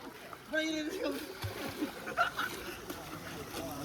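Water splashes and sloshes in bursts in a resort swimming pool while people talk and shout nearby.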